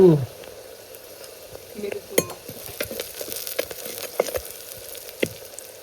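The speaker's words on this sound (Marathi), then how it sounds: "वाटण परतून घ्यायचे" Ground spice paste for stuffed brinjal sautéing in a pan, with a steady low sizzle broken by scattered sharp stirring clicks and scrapes, close and alone.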